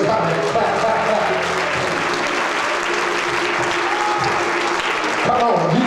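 Congregation clapping during a church service, a loud, continuous wash of hands over a held musical tone, with voices and organ-like chords rising near the end.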